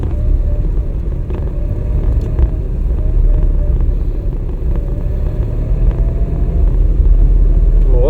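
Car engine pulling steadily as the accelerator is pressed during a driving lesson, a continuous loud low rumble of road driving with slight swells, no clear talk over it.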